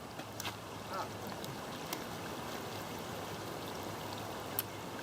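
Creek water flowing at a waterhole, a soft continuous trickle and babble heard moderately close, with a few small splashes and clicks on top and no talk.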